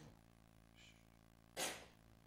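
A single sharp sneeze bursts out in a lecture hall, loud and close, with a brief breathy intake just before it, over the quiet room hum.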